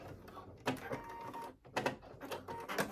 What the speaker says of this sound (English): my sewing machine wants to eat this fabric